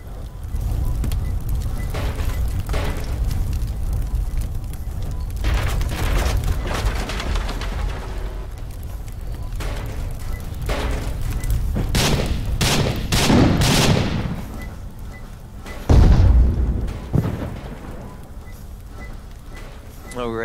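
Missile explosions and rapid gunfire in the Edward The Man-Eating Train video game, dense bursts of shots and booms rolling almost continuously, with a heavy low blast near the end and a player talking over the action.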